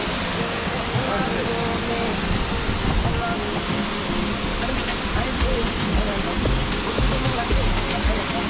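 Chipota Falls roars as a steady, loud broadband rush of falling water, constant and close with no pauses.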